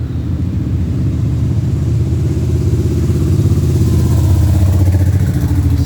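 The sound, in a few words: road traffic noise next to a cemetery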